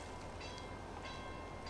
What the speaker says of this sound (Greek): Έχουμε και το τρένο.